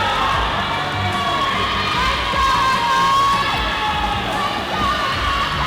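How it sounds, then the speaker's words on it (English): Teammates at a swim meet cheer and shout loudly and continuously, a crowd of voices whooping together in an echoing indoor pool setting. "your teammates are all cheering for you"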